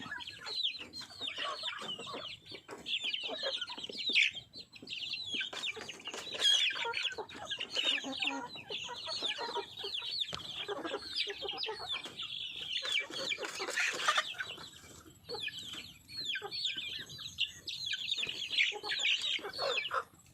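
A flock of backyard chickens clucks and chatters continuously while being fed, a busy, fairly quiet layered murmur of many birds with no talk over it.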